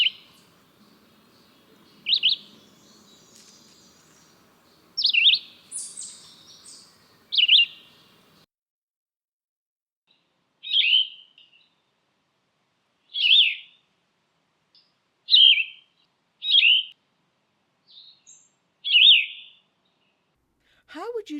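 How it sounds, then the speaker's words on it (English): A string of about nine short, bright bird calls comes at spaced intervals and is played back for identification by ear. A faint murmur of talk sits underneath the first few calls before the rest ring out alone. "if I play two similar bird sounds,"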